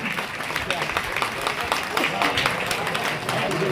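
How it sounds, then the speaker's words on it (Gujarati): An audience applauds at the Matar Gaurav Puraskar award ceremony honouring dignitaries, a steady, fairly loud wash of clapping from a crowd, with voices mixed in. "જોરદાર તાળીઓ"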